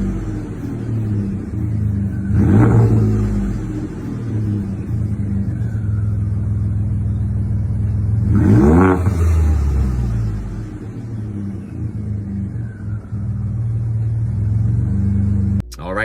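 Ford F150 pickup with a 3.5L EcoBoost V6 and an aftermarket exhaust, a deep steady rumble close by with two strong rev-ups, each swelling and falling back to a low idle.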